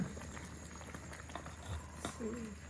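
Food simmers in a pot during meal preparation in a home in Japan, giving a faint, soft patter of bubbles that pops irregularly at close range against a low background hum.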